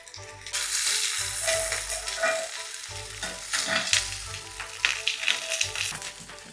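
Soy sauce hits a hot pan with chicken for teriyaki, giving a loud burst of close sizzling that keeps hissing and crackling, broken by spatula scrapes and stirring.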